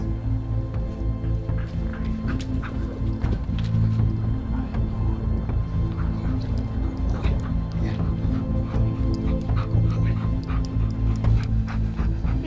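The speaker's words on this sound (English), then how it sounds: "A protection dog's usually a German Shepherd or a Belgian Malinois." A German Shepherd or Belgian Malinois protection dog on a patrol training chase gives loud, close barks and whimpers in quick, uneven bursts over constant heavy background rumble.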